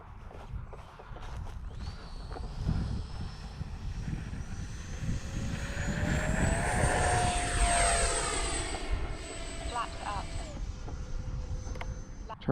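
A FlyFans K-8 Red Falcon RC jet model flying near a runway, its whining engine tone rising in pitch and swelling as it passes close, then easing off, with a person talking throughout.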